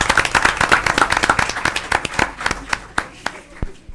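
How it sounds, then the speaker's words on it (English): An audience at a school board meeting claps for staff, dense close applause at first that thins into scattered individual claps over a few seconds. "Mrs. McAnally, special thanks to you, and we applaud you and your Staff."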